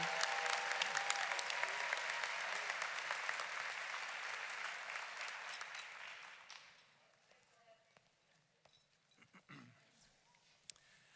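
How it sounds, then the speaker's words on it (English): A commencement ceremony audience applauds the 2023 valedictorian: dense, loud clapping that holds steady for about six seconds, then fades quickly into a quiet room with a few faint thuds. "Can we have another round of applause for your incredible 2023 valedictorian?"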